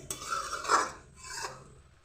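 Noodles being stirred in a pan after salt goes in: a few short scraping, rubbing strokes of utensil against the pan, quiet and close, with no voices.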